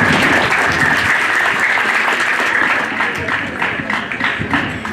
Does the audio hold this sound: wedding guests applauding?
yes